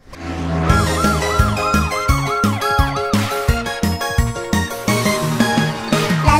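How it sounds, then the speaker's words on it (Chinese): A cartoon fire truck siren wails in repeated rising and falling sweeps, loud and close, over a bouncy children's song backing with steady drums and bass. "来啦来啦，消防车来啦，大家请让开"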